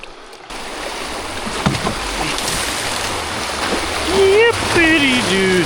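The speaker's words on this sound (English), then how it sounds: "First rapids of day 2." A float through river rapids on the Devils River brings a steady rush and splash of churning water close around the craft, with a brief voice rising over it near the end.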